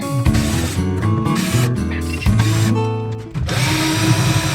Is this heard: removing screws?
yes